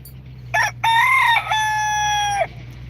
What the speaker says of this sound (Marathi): आमचा कोंबडा फार दनान करतोय आम्हाला झोप पण देऊ नाही राहिला